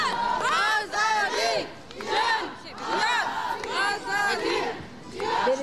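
Rally crowd at a women's rights event in Istanbul chanting slogans in loud, rhythmic bursts that rise and fall several times, with shouting voices close and dense.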